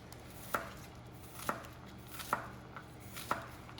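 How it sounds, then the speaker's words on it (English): A knife chops an onion on a cutting board in four steady, evenly spaced strokes, each a crisp thud, with a quiet background and no talking. "keeping my fingers is my number one goal with my chopping"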